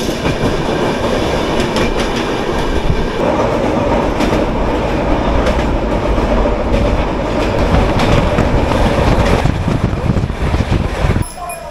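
A passenger train heading to Jasidih railway station, heard from inside: a loud, continuous rumble and clatter of wheels on rails close by, steady throughout, dropping off sharply at the very end.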